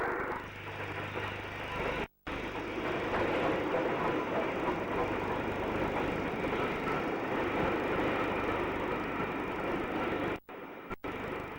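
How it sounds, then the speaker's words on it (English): LNER A4 steam locomotive Wild Swan hauling the northbound non-stop Flying Scotsman past York in the 1959-1968 era, a loud continuous rush of train noise and rolling wheels close by, with brief dropouts in the recording. "A4 Wild Swan on the northbound non-stop Flying Scotsman."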